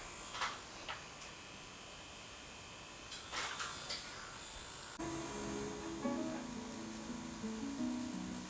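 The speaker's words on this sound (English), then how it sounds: "The tattoo machine has a little vibration and noise." A Rocket II permanent makeup tattoo machine runs with a faint electric buzz, starting with a few light ticks and clicks, then settling into a steady low motorized hum with a whining tone for the last few seconds.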